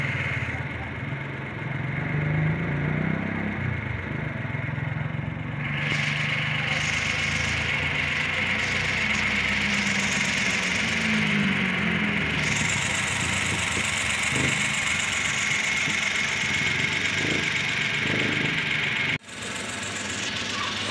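An overhauled Suzuki K6A engine in a DA63 idles steadily and evenly at close range for about twenty seconds, a constant mechanical hum with faint ticking, cut briefly near the end by a sharp knock.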